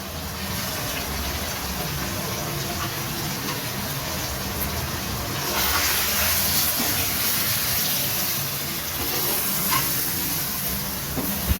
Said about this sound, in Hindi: अब हम इसको अच्छे से भूनते हैं।